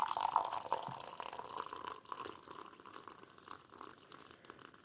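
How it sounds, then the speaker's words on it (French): Hot water is poured over a tea bag in a cup for Christmas tea, making a continuous, fairly quiet splashing trickle that fills the cup and softens slightly as it goes on. "Je mets mon sachet de thé. Je vais mettre de l'eau."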